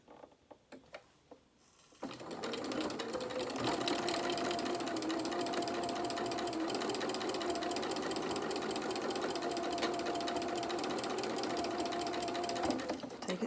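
A sewing machine stitches dungarees with the needle moved to the 6.5 position, running in one long, steady, close burst after a few brief clicks and short starts.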